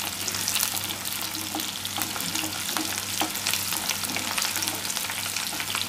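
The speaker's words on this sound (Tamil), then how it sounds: "இப்போ இந்த வெங்காயமும் இந்த பூண்டும் நல்லா பொன்னிறமாக ஆகிற வரைக்கும் வதக்கிக்கலாம்." Onion and garlic sauté in oil in a clay pot, giving a steady, close sizzle with a faint low hum under it and scattered small crackles and pops throughout.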